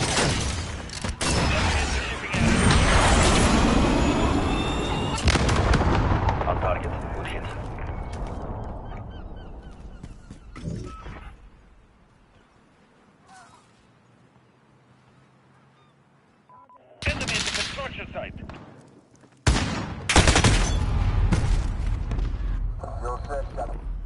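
Artillery and gunfire in a video game make loud bursts and booms, a heavy barrage at the start, then a quieter stretch, and renewed blasts near the end, with radio-style voices calling out over the combat.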